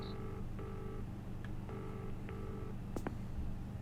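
Video game telephone dialing emergency services: a short run of electronic dial tones in even bursts with brief gaps, ending in a couple of clicks.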